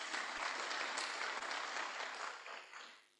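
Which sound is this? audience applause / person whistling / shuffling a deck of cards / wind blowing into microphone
audience applause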